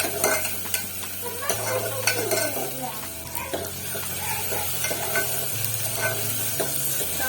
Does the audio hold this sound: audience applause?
no